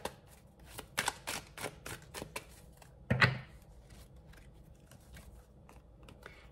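Tarot cards are drawn and handled, with soft, close papery flicks and shuffles in irregular bursts and one louder rustle midway. Quiet pauses fall between the bursts.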